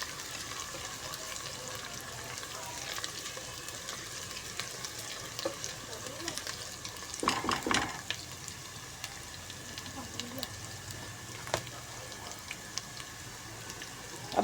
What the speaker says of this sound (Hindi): अब देखिए हमने लहसुन अदरक को अच्छे तरीके से फ्राई कर लेना है।